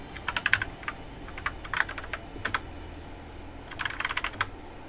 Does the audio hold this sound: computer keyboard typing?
yes